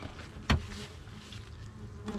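A low, steady buzz of honey bees flying around their hives hums throughout, with one sharp thump near the start; no voices.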